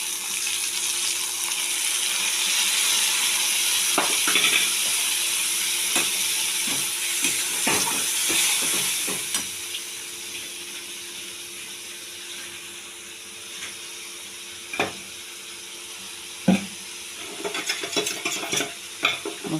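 Spices sizzling in a hot pan with new potatoes and peas, a steady hiss of frying that fades midway, followed by scattered scrapes and knocks of a spoon stirring the pan.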